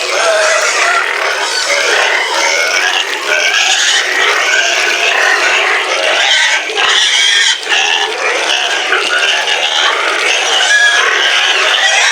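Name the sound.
native pigs at feeding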